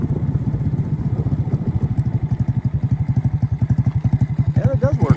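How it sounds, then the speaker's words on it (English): Honda CT70 minibike engine idling as it brakes almost to a stop, a close, steady rapid putter with a fast regular pulse that stays loud throughout. "We're going to idle almost to a stop."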